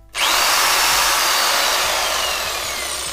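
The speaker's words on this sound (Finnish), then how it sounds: "sähkösaha" A Bosch electric saw bites into a scooter bar clamped to a bench, starting abruptly and then grinding on loudly and continuously as the blade cuts through the metal tube.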